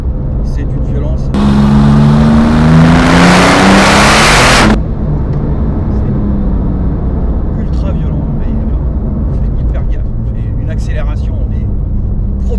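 A Porsche 997 GT2 roars hard through second and third gear, its engine note climbing in a loud, aggressive burst of a few seconds, then dropping to steady cabin rumble while someone talks over it.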